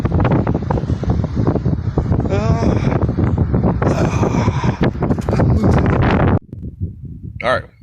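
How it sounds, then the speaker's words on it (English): Strong wind blows outdoors and buffets the microphone in loud rumbling gusts while someone talks through it. The roar drops off abruptly toward the end. "I'd say it's pretty windy."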